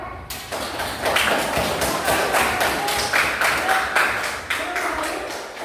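Classroom students applaud their classmates after a group presentation, a lively burst of rhythmic clapping that keeps a steady beat for several seconds with faint voices mixed in.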